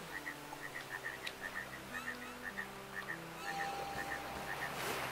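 A frog in the video game FEZ croaks in short paired chirps repeated at an even pace, a clear call over soft sustained background music tones.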